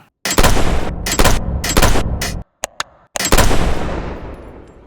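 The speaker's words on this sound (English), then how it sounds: "this way you can get really interesting and big sounding gunshots" Punchy, heavily processed gunshots fire in a quick series of loud bursts, each with a booming tail, the last one ringing out longest.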